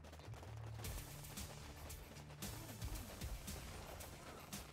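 Rapid Uzi submachine-gun fire in the war video game Warpips sounds as faint, distant bursts of crackling shots over a low rumbling battle background, repeating irregularly with no voices.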